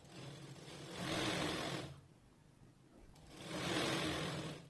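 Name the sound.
sewing machine stitching a blouse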